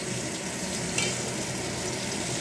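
Bitter gourd slices frying in a pan, a constant close, hissing oil sizzle with one brief spatter or stir near the middle and no voices.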